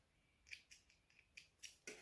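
Scissors snip fuzzy thread ends off a handmade key ring wristlet, several quiet crisp clicks in an uneven rhythm, close and faint with no talk, ending in a slightly louder rustle.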